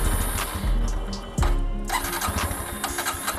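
A 2024 Bajaj Pulsar N125 base model motorcycle with a 125cc engine is started with the self-starter, a brief cranking whir that catches into a close, steady idle.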